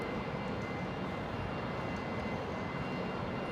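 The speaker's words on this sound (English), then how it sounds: "There goes the Air Canada Dreamliner" An Air Canada Boeing Dreamliner jet airliner at Brisbane International Airport gives off a steady, broad roar that holds level throughout, with no voices over it.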